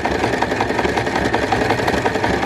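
Sewing machine stitching a second pass over a buttonhole, giving a steady, fast, even mechanical hum and rattle up close with no pauses.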